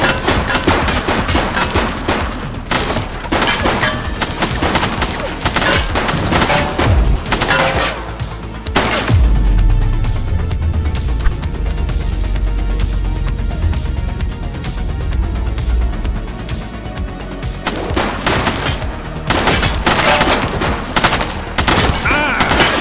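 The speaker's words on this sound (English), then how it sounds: "He's shooting!" Video game gunfire from The Precinct, a police game: rapid, loud bursts of shots rattle almost without pause, easing into a lower rumbling lull midway before heavy firing resumes.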